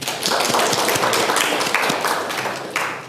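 A class claps together in a close, dense burst of rapid hand claps that stays loud throughout and fades slightly near the end.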